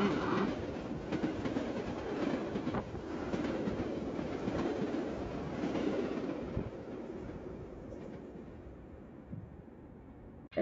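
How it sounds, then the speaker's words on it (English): A metro train from Chicago rushes by, a loud rumbling clatter of wheels on rails that stays heavy for several seconds and then thins out toward the end. "a metro train coming from Chicago, and the noise is coming very, very fast"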